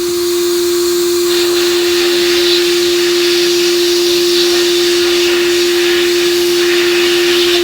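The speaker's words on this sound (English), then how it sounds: "We're gonna just blow the rust off." Compressed air or media blasting blows rust off the metal footings of old store stools, a loud, steady, close hiss with a constant hum running under it throughout.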